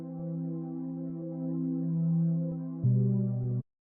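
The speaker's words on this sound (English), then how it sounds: "It's just a bit of an extra pad layer that I made with analog." Dark synth pad layer built in Analog, a sustained chord that holds steady and swells slightly before shifting to a new chord near the end, then cutting off cleanly; alone and moderately quiet.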